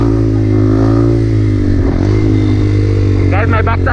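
A dirt bike with a bald, wobbly rear tire, ridden slowly at about 40 km/h, roars close and loud with its engine droning steadily, and a rising rev swells near the end as the clutch is popped for a wheelie.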